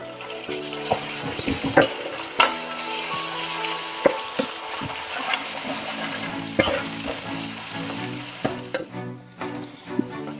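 Ginger garlic paste sizzles steadily in hot oil while a spoon scrapes and stirs the pan with intermittent clanks, close up and without talk, while making fish curry.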